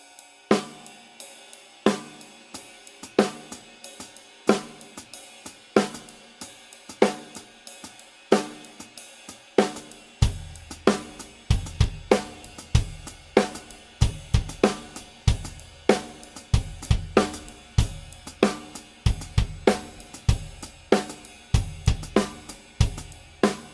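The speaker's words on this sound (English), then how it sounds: "If I play on the bass drum the 1 and then the 3 and, it's going to sound like this." A drum kit plays a repeating ostinato with the bass drum on beat 1 and the and of 3. Crisp, evenly spaced hits sound close and clear with no talking, and the low kick thumps grow heavier in the second half.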